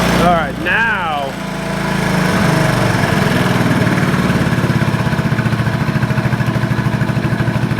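A Honda TRX 125 ATV that had lost its spark idles close by with a steady, slightly uneven putter after a brief rev, while a person talks over the start.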